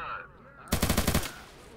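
A rapid automatic burst fires in the STALKER mod The Exception, about eight sharp, loud shots in quick rhythm lasting half a second, preceded by quieter ambient game sounds and a fading tail.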